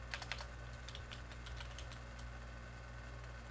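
Fedora Linux command typed on a computer keyboard: quick bursts of crisp key clicks near the start, then scattered individual keystrokes over a steady low hum.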